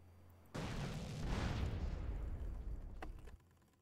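An explosion in a Grand Theft Auto: San Andreas speedrun starts with a sudden loud blast, then a broad rumbling roar that lasts about three seconds before cutting off, heard without talking.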